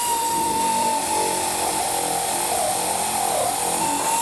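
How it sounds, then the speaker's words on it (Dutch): A loud, steady whine of a power drill with a conical bit boring into a car's fuel tank, running continuously with a sustained high tone and slight dips in pitch. "De brandstoftank, daar wordt een gat in geboord door middel van een konische boor."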